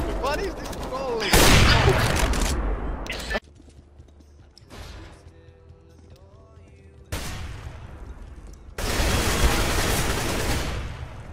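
Gunfire in the video game Counter-Strike, bursts of loud rapid shots in two stretches separated by a quieter lull with faint game noise, voices speaking in between.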